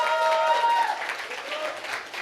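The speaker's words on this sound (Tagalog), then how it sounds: "Ang hina naman ng palakpak na yan." Light, thin applause from a church congregation, a short patter of scattered clapping heard under a talking voice.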